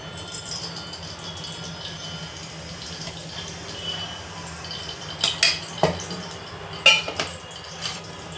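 Dal and rice roasting in ghee in a pot, a low steady background hiss followed by a run of metallic clinks and scrapes as a spoon stirs against the pot, close and moderately loud.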